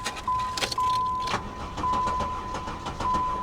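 The engine of a wrecked Porsche Boxster cranks in uneven pulsing bursts under a steady electronic warning chime that beeps on and off. The starter churns close by without catching.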